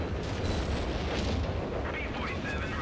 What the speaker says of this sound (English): A lot of artillery in here, but not really hitting anything of note.